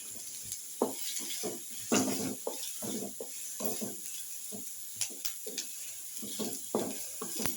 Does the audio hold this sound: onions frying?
yes